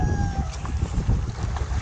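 Steady wind buffets the microphone with low, gusty rumbling throughout, a broad rushing noise with no voices.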